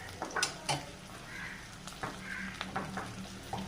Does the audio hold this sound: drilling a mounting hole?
no